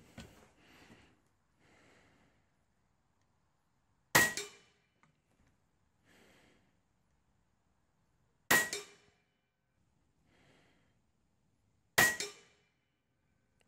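An AGT Vulcan 3 .30 airgun fires slugs at a target outdoors on a calm evening, three sharp close cracks spaced about four seconds apart, each with a short ringing tail, with faint background sounds between.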